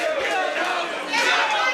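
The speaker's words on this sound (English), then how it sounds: "The crowd is really getting into it." A wrestling crowd cheers and chatters loudly and continuously, swelling a little toward the end, with voices mixed throughout.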